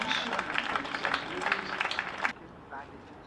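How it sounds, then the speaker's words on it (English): Spectators at a county cricket match, Essex versus Yorkshire, clap for a batsman's milestone, a dense burst of applause that stops abruptly, leaving quiet ground ambience. "gets an extra round of applause because that's his 150th run"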